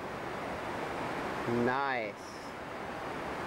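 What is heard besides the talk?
river rapids and waterfalls, Sawyer Rapids, Umpqua River, Oregon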